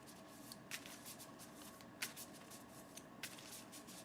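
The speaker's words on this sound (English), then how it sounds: "Shuffle up the equipment cards." Equipment cards for the board game Dragon Eclipse are shuffled in a few quick riffling bursts, soft and close, with no talking.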